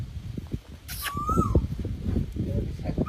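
A dog gives a brief, rising whine amid a busy, noisy background with people talking nearby.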